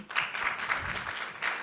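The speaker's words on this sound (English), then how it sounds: "Perhaps you hear the clapping of the hands here in the room." Hands clapping in a hospital room during a live medical procedure case, a few faint, spaced claps over a soft background hum.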